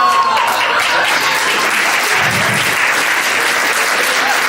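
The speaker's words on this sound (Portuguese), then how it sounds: "Palmas para eles." Audience applause at a motivational talk, a steady dense wash of clapping that stays loud throughout, with a brief low rumble partway through.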